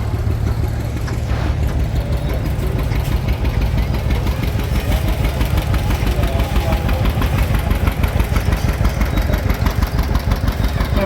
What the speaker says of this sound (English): Has one of the McCune boys in it, driving the tractor.